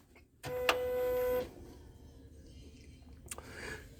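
A mailroom postage machine powers on with a steady mechanical whir and tone lasting about a second, then settles into a quiet low hum with a few faint clicks.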